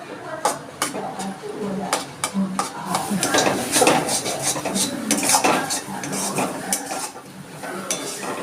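Potol filling paste with ripe green chilli paste being stirred and fried in a kadai, a dense run of metal spoon scrapes and clinks against the pan over a faint sizzle, close and busy, with someone speaking now and then.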